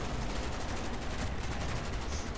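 Gunfire in the video game Call of Duty: Black Ops, a dense, continuous stream of rapid shots that sounds fairly faint and steady throughout, with no speech.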